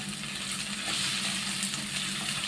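Thinly sliced onion sizzles steadily in a pan over medium heat, a continuous close hiss with faint stirring and no voices.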